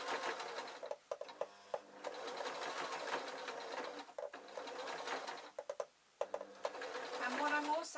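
Sewing machine stitching fabric for a Scottish tam hat, running in steady bursts with short pauses between runs, a close mechanical whir throughout.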